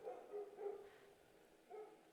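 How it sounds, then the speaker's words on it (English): Neighbor's dogs barking late at night in the Kubitarou horror video game, a few faint, muffled barks in two short bursts heard from a distance. "The neighbor's dogs are barking."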